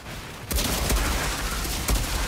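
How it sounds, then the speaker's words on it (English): A shotgun fires in the video game Outriders, sounding as loud blasts over dense, continuous combat noise. There are two heavy booms about a second apart, with no talking. "My shotgun destroys these motherfuckers."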